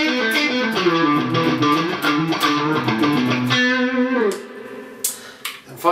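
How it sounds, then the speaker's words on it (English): A PRS Custom 24 electric guitar on its fourth pickup position, bridge coil paired with neck coil, plays a fluid run of notes and chords with a lightly effected tone, loud and close, with no talking. "And then we have this position 4, which is one of these bridge ones, and I think one bridge coil and that coil there in the neck"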